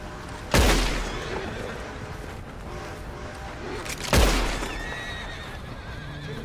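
Horse in Red Dead Redemption 2 whinnies loudly twice, a few seconds apart, over a steady outdoor ambience with faint clip-clop and background game sounds.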